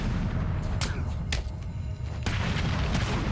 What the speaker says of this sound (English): You can just hear them trying to snipe you.